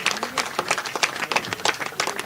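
Crowd applause at a political rally in Jaipur, Rajasthan, a burst of dense clapping with sharp individual claps, moderately loud and close, with faint voices underneath.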